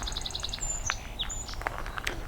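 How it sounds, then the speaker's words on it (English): A swamp sparrow sings its slow song outdoors near a wetland, a clear run of evenly spaced trilled notes followed by thinner whistled notes, moderately close over steady background hiss. "There's the slow version of swamp sparrow,"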